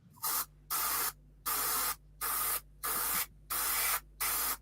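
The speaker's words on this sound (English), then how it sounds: "Someone's spraying." Spray paint hisses out in seven short, even bursts with brief silent gaps between, close and steady, for model painting, over a low background hum.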